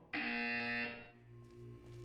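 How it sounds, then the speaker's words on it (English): A loud electronic buzzer tone from the Portal 2 video game sounds once for about a second, ending abruptly, followed by a quieter low hum and faint background tones. "You will hear a buzzer."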